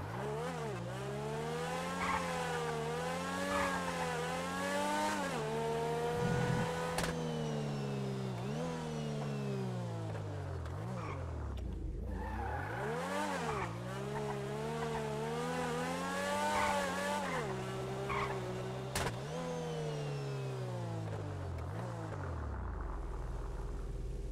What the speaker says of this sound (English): Supercar number two Grotti X80 Proto.